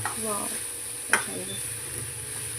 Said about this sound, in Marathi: आता आपण याला मस्त परतून घेऊया मिक्स करून घेऊया एक जीव करून घेऊया सगळ्या भाज्या